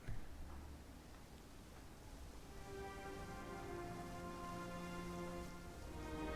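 Rain in the space-program strategy game Mars Horizon, a soft, steady patter under faint tonal music, quiet and continuous.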